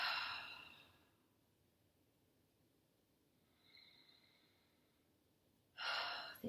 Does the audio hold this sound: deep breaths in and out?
yes